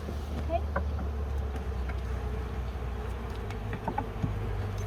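Bees buzz steadily from an opened beehive, a continuous dense hum close by with scattered higher wingbeat whines, while a person talks quietly over it.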